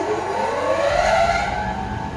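A Cyclone smoke extractor on an Air Motion coffee air roaster switching on, a loud whooshing fan whine rising in pitch as the motor spins up, jet-like and close.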